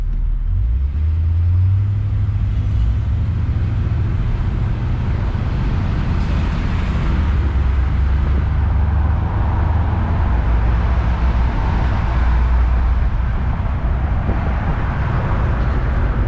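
A 1966 Ford Galaxie 500 convertible's carbureted engine rumbles steadily from inside the moving car, a low continuous drone with slight swells in revs over the whole stretch.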